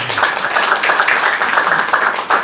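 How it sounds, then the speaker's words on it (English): A conference audience claps loudly and steadily, many hands going at once and carrying on evenly throughout. "you can clap, it's okay"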